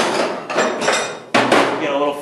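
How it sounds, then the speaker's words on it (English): Pick side of a metalworking hammer tapping low spots up in a metal body panel on a Ford project car, a few sharp ringing knocks spaced unevenly, up close. "keep raising up all these low spots using the pick side of the hammer"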